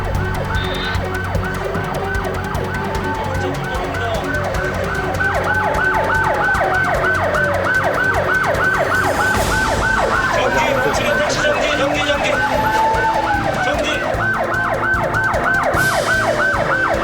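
A fire engine races along a road toward a spreading fire, its siren wailing loudly and continuously in rising and falling sweeps over the rumble of the moving vehicle, close and unbroken.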